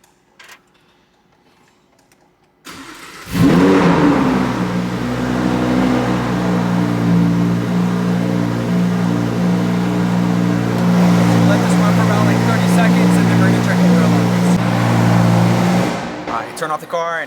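A Lamborghini engine starts at about three seconds and idles steadily and loudly for over ten seconds, with a deep rumble, before it is shut off near the end.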